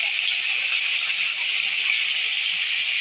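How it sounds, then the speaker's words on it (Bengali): Fish rubbed with salt and turmeric sizzles as it fries in hot oil in a kadai, giving a steady, close, bright hiss that holds unbroken throughout. "এক করে মাছগুলো আমি কড়াই দিয়ে দিচ্ছি"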